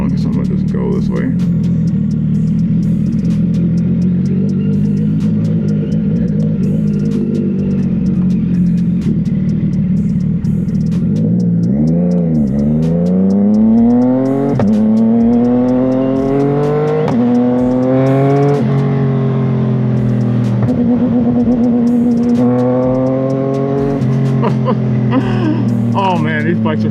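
A CFMoto 675SS sport motorcycle being ridden, its engine loud and close as it revs through repeated rising sweeps, dropping back between gear changes.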